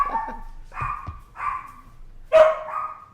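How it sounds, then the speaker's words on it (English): Several dogs bark indoors in short loud bursts, about four sharp barks spread over a few seconds, with the final bark the loudest and ending in a ringing yelp. "Sorry about the dogs in advance."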